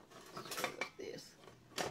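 A utensil clinks and scrapes against a pot while stirring food during a New Year's feast of black-eyed peas, chitterlings, yams and cabbage, a few short metallic knocks close by with faint room noise.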